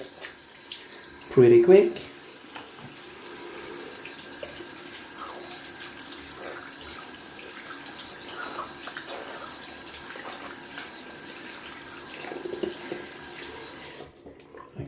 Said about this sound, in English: Just gonna rinse out a little bit here in the sink